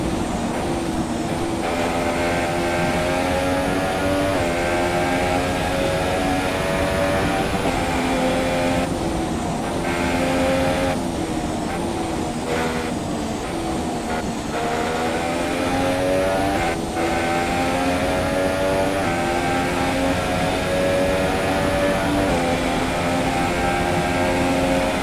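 A racing car engine in the F1 2017 game, slightly worn, holds a continuous high-pitched whining drone with small pitch shifts throughout, loud and unbroken, with no voices.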